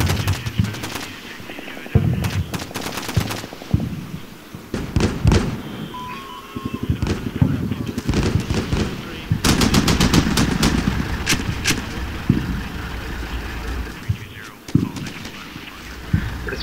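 Machine gun fire in the video game Combat Mission: Shock Force crackles in repeated bursts of rapid shots, some near and loud, others more distant, with someone speaking briefly between volleys.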